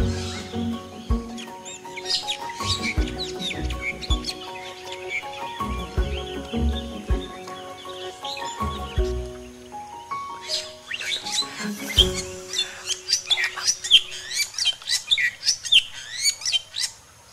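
A Bali myna (jalak Bali) sings close and clear, mixing whistled notes, chirps and harsh chattering phrases in irregular bursts, ending in a quick series of rhythmic calls.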